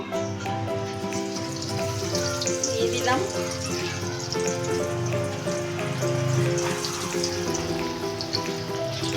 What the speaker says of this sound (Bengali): এখন আমি কড়াইয়ে তেল বসিয়ে দিয়েছি তেলটাকে হালকা আছে আমি এগুলোকে এবার ভেজে নেব